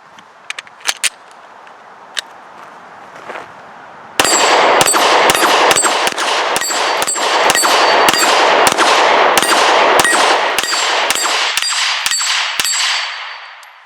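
An IWI Masada pistol firing a rapid string of sharp, loud shots at an outdoor range, about twenty in quick succession after a few quieter clicks and handling noises, with no talk.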